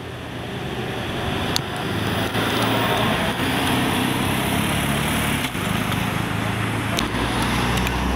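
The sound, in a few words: BMW 4 Series car engine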